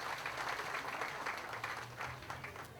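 Audience applause at the outdoor unveiling of a peace pillar at a Hindu temple in Phoenix, a soft, distant patter of many hands clapping steadily throughout.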